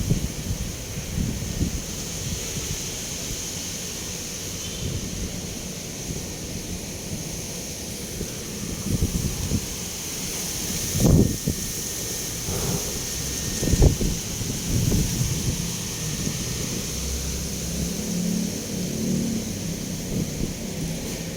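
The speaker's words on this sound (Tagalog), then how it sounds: "Lakas ng hangin." Strong wind roars steadily outdoors with heavy buffeting on the microphone, a constant rushing broadband noise with a few louder gusts and thumps midway.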